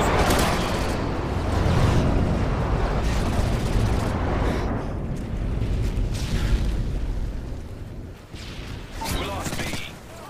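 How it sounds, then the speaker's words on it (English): Airstrike explosions in Call of Duty MW3 multiplayer Domination, a dense, continuous roar of heavy booms and crackling blasts that fades toward the end, with game voices mixed in. "Delta airstrike on the way."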